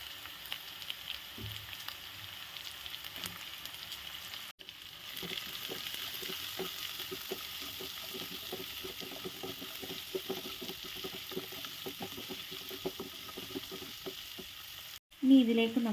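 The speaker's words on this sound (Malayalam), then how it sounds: "ഇതിലേക്ക് നമുക്ക് വലുതായിട്ട് അരിഞ്ഞു വെച്ചിരിക്കുന്ന സവാള ചേർത്ത് കൊടുക്കാം" Large chopped onions fry in a pan for restaurant-style mushroom chilli, a steady close sizzle with repeated scraping and clinks of stirring, ending in a louder clatter.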